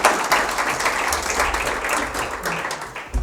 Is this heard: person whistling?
no